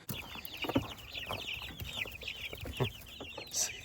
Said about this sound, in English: I just got to feed these chicks.